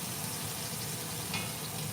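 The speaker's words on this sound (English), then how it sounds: "We're actually going to try to sear this just a little bit longer." Beef sears in a hot pan with a steady, close sizzle and crackle of frying fat, even and continuous throughout with no talking.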